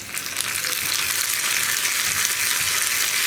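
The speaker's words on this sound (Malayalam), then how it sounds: "ഈ ഉള്ളി ഒന്ന് ബ്രൗൺ കളറായി വരുന്നത് വരെ നമ്മളൊന്ന് ഇളക്കി കൊടുക്കുക" Onions and curry leaves fry in a pan for a pressure-cooker egg curry, giving a steady, loud, dense sizzle with soft stirring scrapes throughout and no voices.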